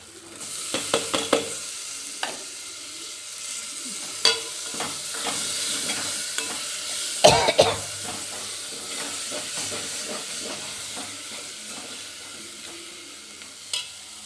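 Tomatoes fry in a pan, giving a soft steady sizzle broken by scraping stirs and clanks of the spoon against the pan, close and fairly loud, with no voices.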